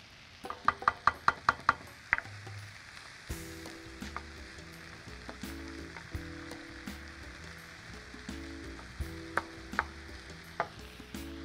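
Food, likely mushrooms, being stirred in a hot pan in a teaching kitchen, with a quick run of sharp utensil taps on the pan, then a soft sizzle under intermittent scraping and knocks, close and without talk.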